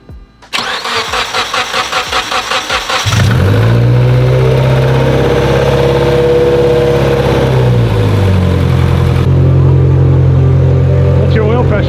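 A Mitsubishi Evo X engine cranks rhythmically for a few seconds, fires loudly, then revs up and down in long sweeping pulls before holding a rough high idle, very close and loud.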